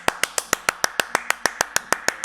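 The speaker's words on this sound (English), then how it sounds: "everyone, clap." People in a group clapping in a regular rhythm, around fifteen crisp, evenly spaced claps in quick succession, close and fairly loud with no talking.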